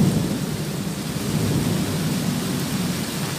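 Heavy rain hisses steadily while a deep roll of thunder rumbles underneath, continuous and dense throughout.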